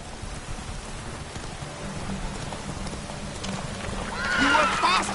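Horse hooves clip-clopping in The Witcher 3 as a rider urges the mount on, a steady galloping patter under in-game voices, with a whinny near the end.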